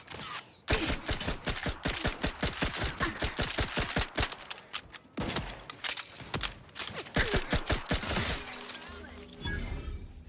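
Rapid automatic gunfire in the video game The Outer Worlds 2: long, evenly spaced bursts of loud shots, a short pause, then more firing, with a voice speaking briefly amid the shooting.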